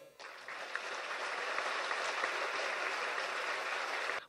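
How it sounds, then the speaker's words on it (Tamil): A full hall breaks into sustained applause after a devotional line in a Tamil dance-drama, a dense, steady wash of clapping that carries evenly from start to finish. "அரங்கம் நிறைந்த ஒரு கரகோஷம்."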